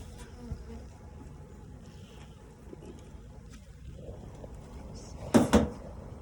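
Honeybees buzzing in a faint, steady hum at an opened beehive on a warm 23-degree day, with a brief louder knock or clatter near the end.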